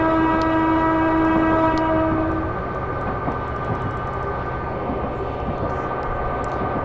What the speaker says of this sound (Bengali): তিস্তা এক্সপ্রেস 2900 সিরিজের লোকোমোটিভ ইউজ করতেছে